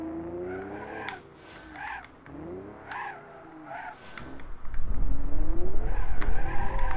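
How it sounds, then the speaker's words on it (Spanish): BeamNG.drive video game car engine revving and rising in pitch through a low gear, with tire squeal, then a rougher, louder growl near the end, no talking. "pero escucháis, vamos a escuchar el motor."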